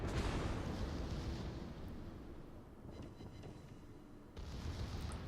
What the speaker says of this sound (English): I really love these guns on the Montana